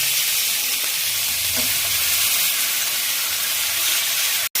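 Vegetables sauté in a hot pan in a Bengali kitchen, giving a steady, loud, close hiss and sizzle that runs unbroken and then cuts off abruptly at the end.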